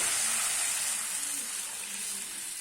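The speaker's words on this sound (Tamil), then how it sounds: "ரெடி பண்ணி வச்சுருக்க ரசத்தை எடுத்து தாளிப்பில் ஊற்றிக்கலாம்." Prepared rasam poured into a hot tempering of mustard seeds and dried chillies gives a steady, fairly loud hissing sizzle that holds evenly for a few seconds with no talk over it.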